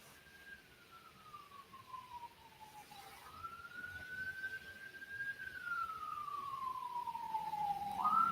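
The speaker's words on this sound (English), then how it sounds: "You guys hear the sirens in my background?" A siren wails out on a busy street near a hospital, gliding down and back up through two slow cycles. It sits fairly faint in the background at first, then grows louder toward the end.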